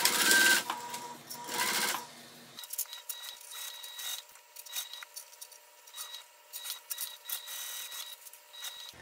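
A sewing machine stitches around the raw fabric edges of a sling bag, with a fast mechanical whir coming in bursts between short pauses, close and fairly loud.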